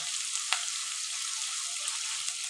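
Garlic fries in a pan with a bright, steady hiss of sizzling oil, close and continuous, punctuated by a sharp stirring scrape or two.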